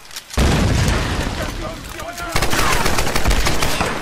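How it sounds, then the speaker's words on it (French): Rapid automatic gunfire in Tomb Raider Definitive Edition, loud bursts of rattling shots and booms in two sharp volleys, with someone talking in French over it. "C'est bien ça, en fait, je tire là."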